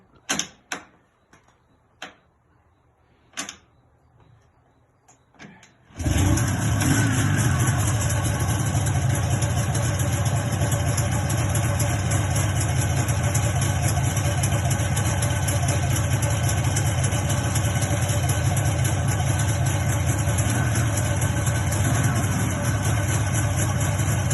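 Restored Jawa 638 motorcycle engine: a few clicks and kickstart attempts, then the engine fires at about six seconds and settles into a loud, steady close-up idle that continues to the end.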